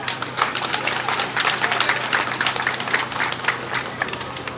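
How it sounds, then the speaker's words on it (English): Steady crowd applause at an outdoor Caribbean Wellness Day community relay and walk, a dense, continuous patter of many hands clapping at even loudness throughout, with no clear speech over it. "So let's give the whole Caribbean a round of applause."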